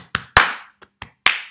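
Sharp hand claps in an uneven pattern for a primary-school music clapping game: a light clap, a loud ringing one, a soft tap, then two more claps ending loud, close and dry with no voices.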